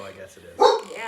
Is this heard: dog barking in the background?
yes